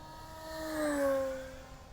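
FlightLine Velocity electric RC airplane making a fast pass overhead, its motor whine rising and falling in pitch as it approaches and recedes, faint and distant.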